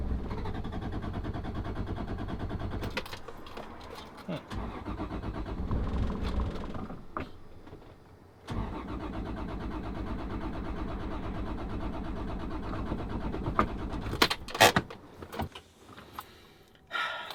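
A Toyota Supra engine on a street cranks repeatedly without catching, a steady mechanical churning broken by brief pauses and clunks, loud and close with no talking.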